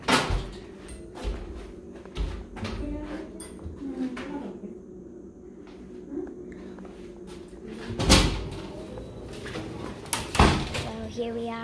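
A building door opened with a couple of clunks and bangs, heard between stretches of someone talking, with footsteps and other handling knocks nearby.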